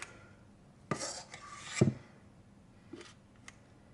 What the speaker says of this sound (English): I have a 2 tablespoon cookie scoop, which I like to use to measure out my cupcakes to make sure they're all perfect size. So I'm going to scoop it in.